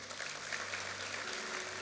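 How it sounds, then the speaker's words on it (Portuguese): A church congregation applauds during a sermon, a steady even wash of clapping heard from a distance at low level, with a faint hum underneath. "Você pode dar um aplauso ao Senhor?"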